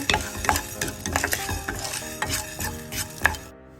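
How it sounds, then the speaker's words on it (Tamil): Black pepper and cumin dry-roasting in a pan, a dry rattling and scraping as a spoon stirs the seeds, uneven taps and clicks close by, ending in quiet, with nobody speaking. "முதல்ல இந்த மிளகு சீரகத்தை வறுத்தெடுக்க போறேன்"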